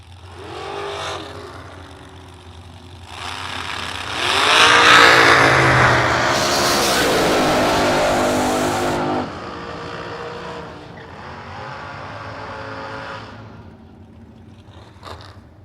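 Hot rod and dragster engines scream and rev hard in a drag race, loud bursts climbing in pitch, peaking in a roaring run that then fades back to a rumbling idle.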